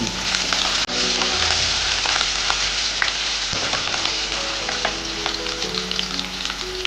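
Crushed garlic and a piece of ginger fry loudly in hot oil for an Idukki-style fish curry, a dense continuous sizzle with scattered stirring clinks close by.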